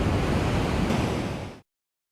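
Strong wind batters the microphone on a beach during fishing for sand whiting, a loud, dense, continuous roar mixed with surf that runs about a second and a half before cutting off abruptly into silence.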